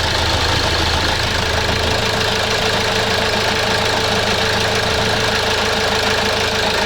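A car engine runs steadily at idle just after repair, a close, even mechanical chug with a faint hiss and no talking.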